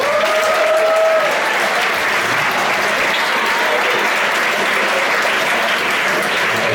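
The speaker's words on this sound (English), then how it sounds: "please give me a round of applause" A large crowd at a science slam event claps loudly, a full, even wave of applause that carries on steadily, with a brief tone near the start and no speech over it.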